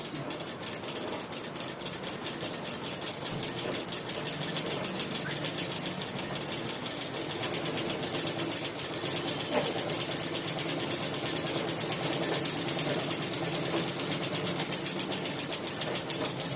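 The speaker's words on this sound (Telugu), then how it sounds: "ఇప్పుడు మనం నిదానంగా ఈ గీత వెంబడి కుట్టండి." A tailoring sewing machine stitches slowly along a marked line, giving a steady close mechanical clatter of needle and gears that repeats evenly throughout with no talking.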